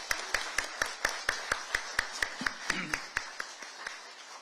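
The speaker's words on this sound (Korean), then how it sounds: "박홍렬 시장님께 크게 격려의 박수 부탁드리겠습니다." An audience claps in a steady, even rhythm at a 2023 launch ceremony for the Mokpo–Sinan integration promotion committee. The crisp claps come at regular intervals and are moderately loud and fairly close, with no talk over them.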